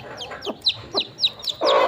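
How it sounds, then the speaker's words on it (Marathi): A desi country hen clucks in a quick series of about six close, sharp calls, then breaks into a louder, longer squawk at the end. "प्युअर गावरान कोंबडी मित्रांनो."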